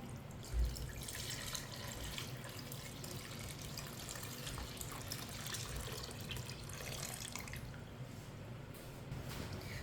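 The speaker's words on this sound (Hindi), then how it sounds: "एक किलो ताज़ा दूध डाल लेंगे।" A kilo of fresh homemade milk is poured into a pot for bread kheer, making a faint, steady liquid splash and trickle that runs close and continuous for about ten seconds.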